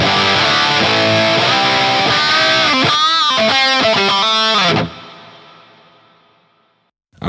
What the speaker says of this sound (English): So let's add the Hall reverb.